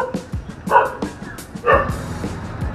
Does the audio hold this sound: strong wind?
no